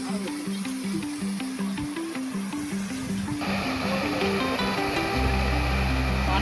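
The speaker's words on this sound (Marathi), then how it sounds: "पाण्याचे फवारे चालू केले" Garden water fountains spray at a holy site in Lonavala, giving a steady broadband hiss of falling water under a repeating musical tone. A deeper, louder rush swells in partway through.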